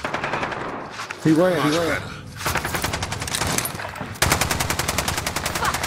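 Sustained automatic gunfire in a military shooter video game, rapid and loud bursts that run under shouted radio-style voices and talk.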